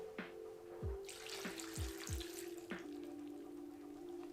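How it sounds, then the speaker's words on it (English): Water poured into a pot of overnight-soaked red kidney beans, an intermittent splashing trickle with a few sharp drips and a steady background hum, close and fairly quiet with no voices. "So now add some water."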